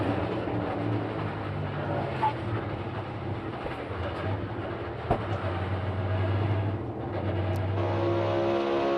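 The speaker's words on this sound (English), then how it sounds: "Here's the Hunt brothers on board from Joey Logano." NASCAR Cup Series race car at Daytona International Speedway in the Daytona 500, heard from an onboard camera as a steady, loud engine drone with rushing wind and occasional clicks, no talking.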